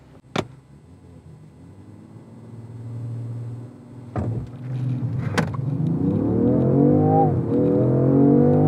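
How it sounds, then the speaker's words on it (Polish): A 2023 Range Rover Sport P510e plug-in hybrid SUV accelerates from a standstill, engine revving up steadily, rising in pitch and growing louder, with a couple of sharp clicks and knocks along the way. "sprawdźmy jak ten samochód przyspiesza ze startu zatrzymanego"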